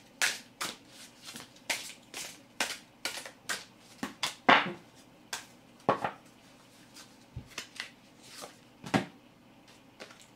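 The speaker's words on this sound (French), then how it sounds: "on se tire une petite carte de conclusion" Fortune-telling cards are shuffled and drawn in a steady series of soft, crisp riffles and slaps, each burst brief and fairly close, with quiet gaps between them.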